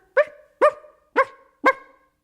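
Four evenly spaced, sharp barks, close and clear, like a young coyote pup yapping, with silence between each.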